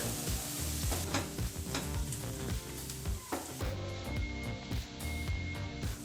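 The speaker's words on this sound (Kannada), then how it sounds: "ನಾವು ಈ ಒಗ್ಗರಣೆನೆಲ್ಲ ಲೋ ಫ್ಲೇಮಲ್ಲೇ ಮಾಡ್ಕೊಳ್ತಾ ಇದ್ದೀವಿ" Spices crackle and sizzle in hot oil over a low flame while tempering, with a spoon scraping and stirring the pan in irregular knocks.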